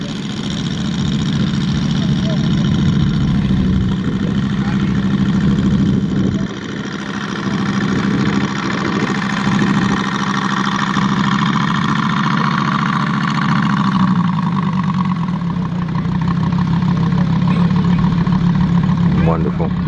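A Barth Kits giant scale Waco model biplane's engine drones steadily and loudly throughout at an air show, a continuous buzzing tone with a slight pitch shift partway through, with voices talking over it.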